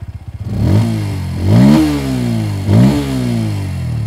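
Bajaj Pulsar P150 motorcycle with an underbelly exhaust revving into the mid-range: three loud, close blips, each rising sharply then falling back to a throbbing idle, with no one talking.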